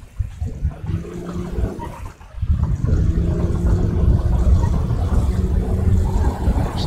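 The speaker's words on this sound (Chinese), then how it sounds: "哦，这风雨太大了吧？" Heavy wind and rainstorm in GTA5, a steady broadband roar and rush of rain and gusts that builds loudly after a brief dip and holds constant to the end, with no talking.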